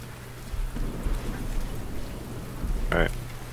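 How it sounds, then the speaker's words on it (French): Rain ambience in Warhammer: Vermintide, a steady wash of rainfall with low rumbles beneath, under faint voices and a brief game sound near the end. "On entend de la pluie mais on voit pas de la pluie."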